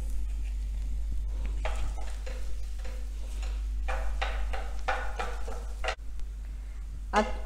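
Fenugreek seeds roasting in ghee in a pan, giving a steady low sizzle with bursts of stirring and scraping throughout, and a sharp knock near the end.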